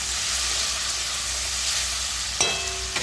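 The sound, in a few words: pumpkin frying in oil with dry chilli and panch phoron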